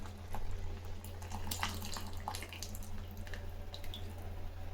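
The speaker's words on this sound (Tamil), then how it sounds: "கரைச்சி வச்சல புளி ஊற்றிக்கலாம்." Dissolved tamarind water is poured into simmering sambar, giving a soft, continuous watery splash and trickle that is fairly faint and close, with no talking.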